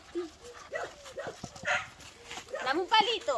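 A dog gives short yips, whimpers and barks in a loose, irregular burst, close by and fairly loud, mixed with overlapping human voices.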